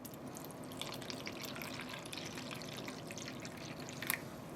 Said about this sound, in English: As I pour this liquid down.